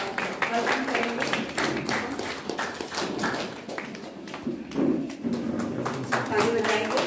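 An audience claps to welcome Dr BK Sanjay, a Padma Shri orthopaedic surgeon, at a Christmas celebration. Steady, close applause runs throughout and mixes with talking voices.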